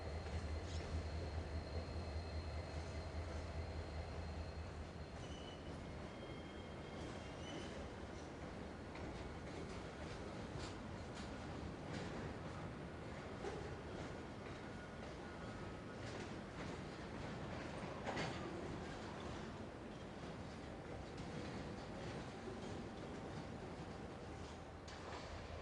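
A freight train rumbles steadily with low mechanical noise, occasional squeals and clanks as it rolls slowly into a rail yard, no voices.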